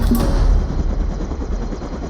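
Helicopter flying over the Zambezi River, a steady, loud rotor and engine roar with broadband rumble throughout, no voices.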